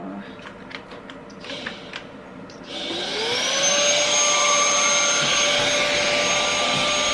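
A cordless vacuum cleaner starts up after some handling clicks, its motor whining up in pitch and then holding a loud, steady high hum.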